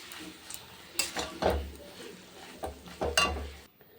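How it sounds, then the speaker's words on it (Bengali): Cabbage stirred in a pan near the end of cooking, after sugar, garam masala and ghee are added: scraping spoon strokes with soft sizzling and occasional clinks, close by, in irregular bursts. "এটা একটু নাড়াচাড়া করে নামিয়ে দেবো"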